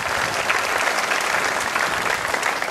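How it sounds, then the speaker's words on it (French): A crowd at a political party rally in Saint-Pierre applauds, a thick, continuous wash of clapping that stays loud and even the whole time, with a faint murmur of voices underneath. "et on l'applaudit bien fort."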